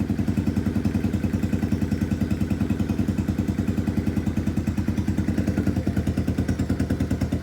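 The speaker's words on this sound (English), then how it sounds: "Just the idle." A Lifan KP Mini 150 motorcycle with an aftermarket exhaust idles cold at close range, a steady even chugging pulse with no voices.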